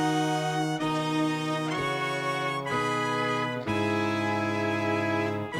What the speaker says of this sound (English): Here we have our horn section.